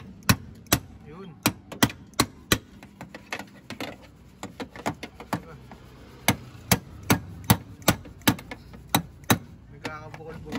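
Repeated sharp metallic hammer blows on a dented car body panel, struck in quick irregular bursts with short pauses, close and loud, with faint voices in the background.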